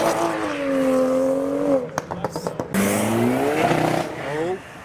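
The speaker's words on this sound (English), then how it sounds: "so cars are leaving for some reason" Cars revving hard and accelerating away from a car meet, engines climbing and falling in pitch, with a burst of quick revs in the middle. People talk over the noise.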